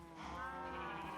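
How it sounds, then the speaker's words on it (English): A single sheep bleats in Minecraft while being sheared, a fairly quiet, drawn-out wavering call heard alone. "We gotta shear the sheep fast."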